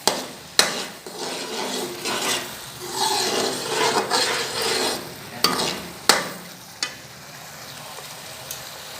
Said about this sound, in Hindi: अब मैं इसमें डालूँगी लहसुन, तकरीबन 1 चम्मच पेस्ट है इसका। इसको अच्छे तरीके से मैं फ्राई कर लूँगी।